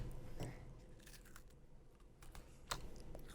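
A cookie dipped in milk being bitten and crunched close to a microphone, giving a few crisp, crackly crunches and chewing noises at low volume with no talking.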